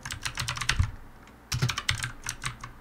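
Crisp, close computer keyboard typing as an apt-get install command is entered in a terminal. It comes in two quick bursts of clicks separated by a short pause, with no voices.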